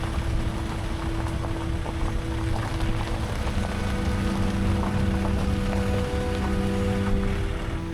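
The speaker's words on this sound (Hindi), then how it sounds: "और अब फिर से बारिश भी आ गई।" Steady, dense rain patters and hisses across surfaces in a South Indian hill forest, with a faint low hum beneath and no voices.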